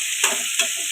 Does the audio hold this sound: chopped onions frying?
yes